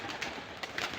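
Pigeons cooing softly in short repeated bursts over a dense, noisy outdoor background, with no clear wingbeats standing out.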